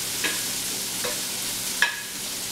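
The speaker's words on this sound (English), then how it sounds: "So I'm just sauteing these onions and bacon" Onions and bacon sauté in a pan with a constant soft sizzle, broken by a few brief scraping stirs and clinks of a utensil against the pan.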